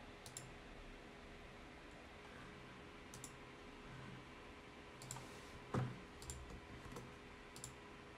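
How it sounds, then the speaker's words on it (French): A computer mouse clicks to confirm a payment, a few faint, sharp clicks scattered across a quiet room, with one slightly louder click near the end. "Je clique sur confirmer le paiement."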